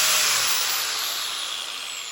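A 4-inch Makita angle grinder runs at high speed, giving a steady, loud, close-up whine with a bright, hissing edge that holds constant throughout, with no talking.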